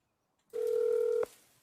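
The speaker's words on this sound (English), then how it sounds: "He answered a live phone call on live TV from Shannon Sharp." Telephone dial tone from a phone call played on a live TV broadcast, a single steady electronic tone held for under a second, then cut off with a click, quiet and alone.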